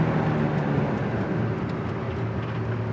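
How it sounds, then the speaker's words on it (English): A 1971 Oldsmobile 442 with a manual transmission downshifts into third, its engine a steady loud drone of low rumble and road noise with no clear rev spike. "Here's your downshift to third."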